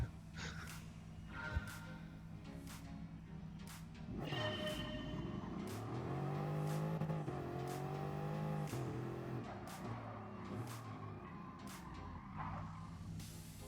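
Race car engine in GT Sport revving and shifting through gears, a loud continuous drone that climbs and falls in pitch, with sharp clicks from gear changes or controller inputs, no talking.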